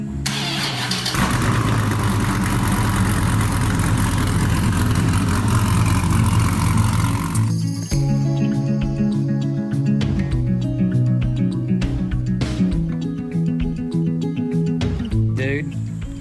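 A Nissan GT-R being fired up after sitting unused for a while; the engine starts and settles into a loud, steady running roar that fills the clip, with a sharp change in tone about halfway through.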